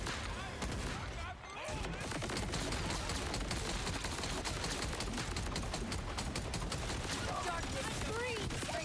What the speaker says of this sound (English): All right, let's test out the shotgun.